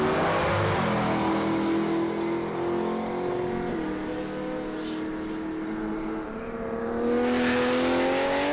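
Drag race car at Palmyra Raceway launching hard with its tyres spinning, a loud sustained engine roar with rising harmonic pitch that dips, recovers and climbs again as it pulls away.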